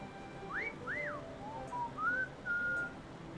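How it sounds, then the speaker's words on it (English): A clear melodic whistle rises and falls in a few short, bright phrases in a Doki Doki Literature Club mod video game, heard alone over a soft background hiss. "the boys whistle at her again"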